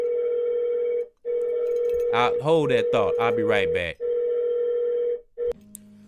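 A telephone rings in steady repeated tones that pause briefly, while someone speaks over part of the ringing, close and clear.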